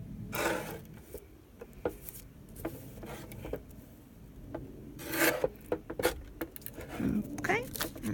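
Dictionary paper is trimmed for a journaling card, giving short scraping, rasping strokes and soft paper rubs in bursts, close and fairly quiet, with a few light taps in between.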